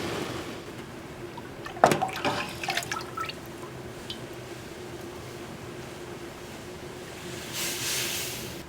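Semi-hot sugarcane juice is scooped and poured from one pan into another while making cane syrup on a backyard scale. A short burst of splashing pours stands out against a quiet, steady background.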